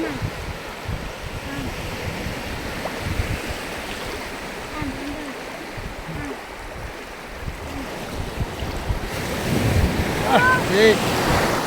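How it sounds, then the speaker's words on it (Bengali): Big ocean waves break on a sea beach in Bhola district, Bangladesh, a steady, close roar of surf with wind buffeting the microphone, swelling louder toward the end. "বড় বড় ঢেউ আসতেছে"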